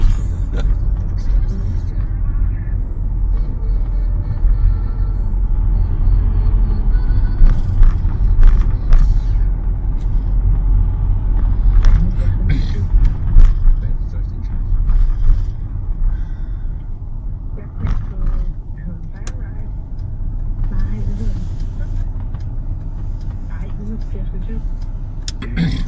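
Busy city street traffic in Copenhagen rumbles close by, with cars and buses passing in a loud, continuous wash and occasional creaks, while people talk over it.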